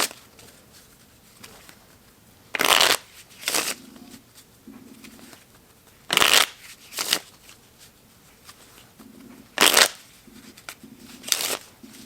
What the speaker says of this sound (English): We'll put the 5 of clubs back in the deck and we'll shuffle.